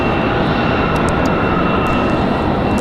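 A Boeing 717 airliner on final approach at Raleigh-Durham, arriving from Detroit, gives a loud, constant engine roar with a steady tonal hum, heard alone.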